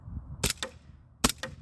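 Two sharp, snappy CO2 pistol shots from a Springfield Armory XDE or Crosman PFAM9B ring out about a second apart, each a crisp crack with a quick echo, over quiet background.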